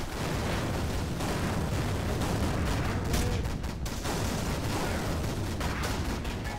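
Tank cannon fire in the Steel Fury tank simulator, a dense rumbling barrage of booming blasts and rolling gunfire that stays loud and continuous throughout, with no voices.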